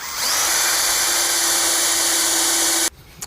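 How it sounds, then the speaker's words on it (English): A power drill bores through the side frame of a shutter in one loud, steady whir lasting under three seconds before cutting off abruptly. "So we'll drill one through the side frame here."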